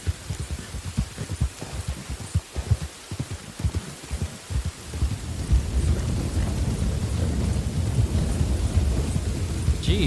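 A video-game thunderstorm in Red Dead Redemption 2, with a run of heavy rumbling thunder rolls and low booms in the first half, then a steady wash of loud rain that settles in and continues.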